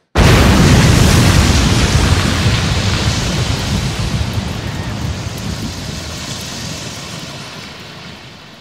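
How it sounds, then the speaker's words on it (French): A loud explosion inside a school building bursts out suddenly, then a long rumbling roar of noise that slowly fades away, with no voices. "Il vient tout juste d'avoir une explosion."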